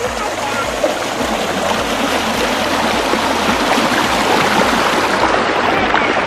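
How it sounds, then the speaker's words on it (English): Waterfall and flowing stream at a park pour out a loud, steady broadband rush of water that stays continuous throughout, with no voices standing out over the roar. "Look at the waterfall."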